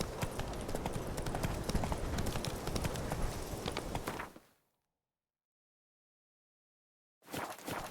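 Horse hooves galloping in The Witcher 3: Wild Hunt, a rapid steady clip-clop that runs loud, cuts to silence for about three seconds, then resumes.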